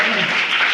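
Applause from a crowd of children at a girls' school admission festival in Dang, a dense, steady wash of clapping that fills the whole brief moment without pause.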